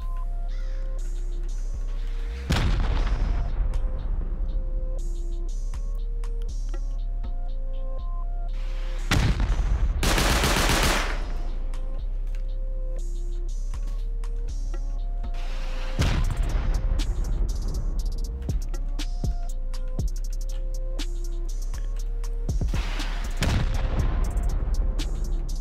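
Rockets fired at a base in a video game, with several loud booming bursts spread out over time and one large blast near the middle, set against a continuous low rumble and scattered clatter.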